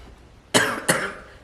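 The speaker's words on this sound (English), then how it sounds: "Excuse my cough." Two sharp coughs in quick succession, close and fairly loud, with a quiet room tone before and after.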